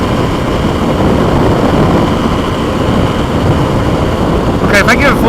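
A Kawasaki KLX300 motorcycle engine held at full throttle gives a loud, steady drone that barely changes pitch, suggesting it isn't responding. A few brief sharper sounds come near the end.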